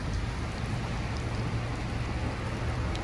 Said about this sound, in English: some of this rain is heavy, heavy, heavy.